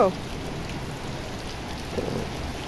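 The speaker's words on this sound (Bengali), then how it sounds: "বৃষ্টি শুরু হয়ে গেল" Steady rain pours down in an even, close wash of patter, with a faint rumble underneath and no voices.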